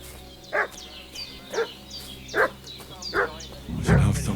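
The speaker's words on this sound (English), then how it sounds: "What's that dog making such a fuss about?" A dog barks in bursts of single, sharp woofs, spaced about a second apart, in the medieval video game Kingdom Come: Deliverance II, followed by a low rumble at the end.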